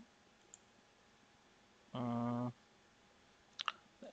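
A computer mouse right-clicks during AutoCAD 2020 3D modelling: a short steady electronic beep is followed by a quick pair of faint, sharp clicks near the end, all quiet, with no speech.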